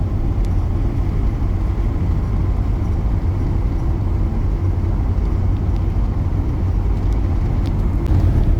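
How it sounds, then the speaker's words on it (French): A car drives along a desert road in southern Tunisia, with a steady, loud low engine and road rumble heard from inside the vehicle and no break in the drone. "ça fait 1 heure qu'on roule"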